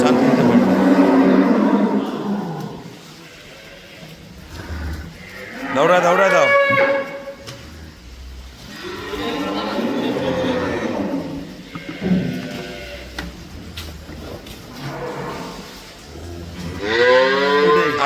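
Dairy cows on a farm give several loud, drawn-out moos at close range, spaced through the stretch, with people talking between and beneath the calls.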